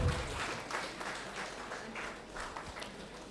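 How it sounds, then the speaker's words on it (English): Audience applause at a summit, a faint, steady patter of many hands clapping that continues through the short stretch without a clear start or finish. "Let's keep the round of applause going"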